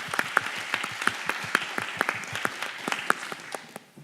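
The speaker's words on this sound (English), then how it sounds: "Another round of applause" Steady applause from an audience at a live pitch event, a dense patter of many hands clapping at once that holds for several seconds before tapering off slightly at the end.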